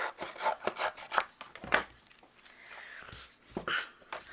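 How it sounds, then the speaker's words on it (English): Scissors trimming excess from a printed lightweight cardstock sticker give close, crisp snipping and rasping cuts in a quick irregular series, with a brief sliding scrape partway through. "I'm going to go ahead and trim away the excess"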